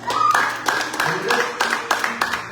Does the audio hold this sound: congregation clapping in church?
yes